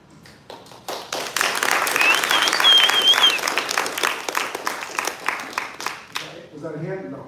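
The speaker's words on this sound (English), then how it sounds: "No, just clapping." Audience clapping at a political assembly rally: dense, loud applause builds quickly and holds for several seconds before tapering off, with a voice starting to speak at the end.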